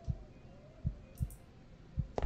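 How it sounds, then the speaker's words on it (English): Heartbeat effect in the horror video game The Black Within demo: a few deep, muffled low thumps at uneven intervals over a quiet ambient drone, with a brief brighter swish near the end and no speech. "My heartbeat."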